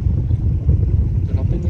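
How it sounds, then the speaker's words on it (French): A south wind at sea buffets a sailboat off the Datça peninsula, a loud, low, rumbling gust that roars without a break across the short stretch. "ici il y a du vent du sud, ce qui n'était absolument pas prévu"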